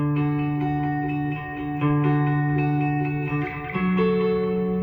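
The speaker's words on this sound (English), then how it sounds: "it starts to get lost in that reverb wash as you play" Electric guitar sustaining layered chords drenched in a wide reverb wash with trailing delay repeats from effects pedals, for a worship swell part; notes ring continuously and shift in pitch a few times, with no voices.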